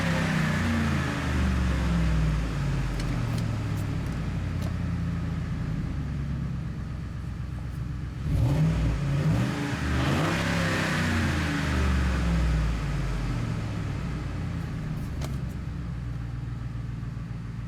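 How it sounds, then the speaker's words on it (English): A Ford F150 engine running after its trouble codes were erased, with a steady low idle rumble and a rise in revs around the middle before it settles back to an even drone. "So as you can see, the engine is running."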